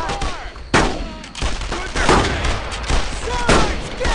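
Gunfire in the World War II shooter Brothers in Arms: Road to Hill 30, with loud, close rifle and machine-gun bursts cracking repeatedly amid a battle, while soldiers shout over the shooting.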